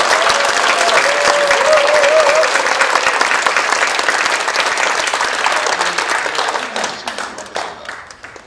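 Loud applause from a large audience at the opening of a public assembly, with a brief cheer early on. The clapping stays dense for several seconds, then thins into scattered claps as it fades out.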